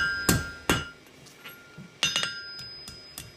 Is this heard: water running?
no